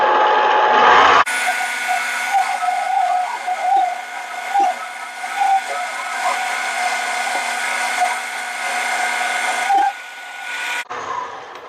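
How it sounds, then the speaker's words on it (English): A Harbor Freight mini lathe taking a cut on a metal adapter, a loud continuous high-pitched whine and hiss held steady for about ten seconds, with a brief change in tone at the start and end. "You have to remember, this is the Harbor Freight mini lathe."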